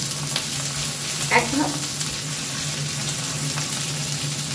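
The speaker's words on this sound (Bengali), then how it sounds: "আমি আলুর কুচি এইভাবে সব মশলা ভেজে করছি" Spices frying with a chopped potato filling in a pan, a steady hiss of oil lasting throughout with a brief louder burst of sizzle near the middle and no talking.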